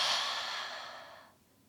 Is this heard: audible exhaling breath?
yes